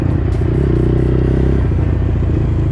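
A Kyam 1/18 scale RC buggy runs on packed gravel, its small electric motor buzzing loudly and close with crunchy, rattling tire noise over a short burst.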